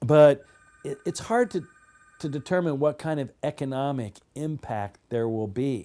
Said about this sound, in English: Sorry about that phone, I can't turn it off.